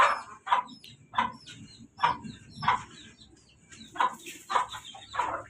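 Hens cluck repeatedly in short, regular bursts nearby, with soft outdoor background noise between the calls.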